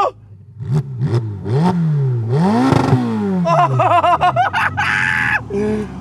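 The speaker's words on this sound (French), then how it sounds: "le rupteur de moto" An engine revs hard again and again, bouncing off the limiter in rising, choppy bursts, then cracks through quick gear changes and hits a high, sharp scream. The sound is loud and close, and no one speaks over it.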